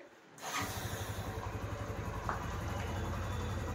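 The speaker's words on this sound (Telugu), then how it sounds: "ఒకసారి మీకు ఇంజిన్ బీటింగ్గా వినిపించేస్తాను ఇప్పుడు" A Hero Honda Karizma R motorcycle engine starts and settles into a steady, throbbing idle, close by and fairly loud, with no voices.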